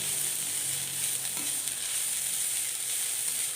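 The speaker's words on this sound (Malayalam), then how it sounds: "അമരയ്ക്ക് തോരൻ വയ്ക്കുമ്പോൾ എപ്പോഴും എണ്ണയിൽ വഴറ്റി വേണം എടുക്കാൻ" Broad beans sautéing in hot oil for a Kerala-style thoran, giving a steady, even sizzle that holds at one level throughout with no talking.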